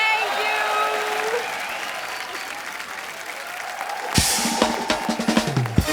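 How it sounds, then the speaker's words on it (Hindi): Studio audience applause for two guests on a TV comedy talk show, a dense steady clapping that swells louder toward the end with some crowd noise. "जोरदार तालियां सोनाक्षी और शिवानी के लिए।"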